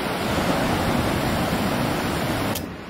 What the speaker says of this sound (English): I could hear the beach waves just crashing the whole night.